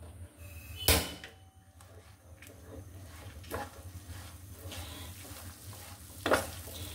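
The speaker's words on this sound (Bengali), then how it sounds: "ডালটা আমি একটু ভেজে নিব" Lentils with garlic, onion and turmeric fry in a pan on the stove while being stirred. A steady low sizzle carries throughout, broken by three sharp scraping clatters from the spoon at roughly even intervals.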